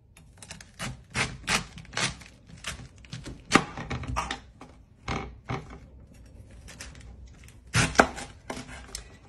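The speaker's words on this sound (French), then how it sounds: "Alors, je vais couper mon chou." A knife chops through a head of cabbage on a cutting board for sauerkraut, firm irregular thuds and crunches in short bursts, close and fairly loud with brief pauses between strokes.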